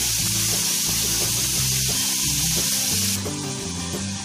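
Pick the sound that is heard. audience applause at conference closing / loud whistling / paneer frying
paneer frying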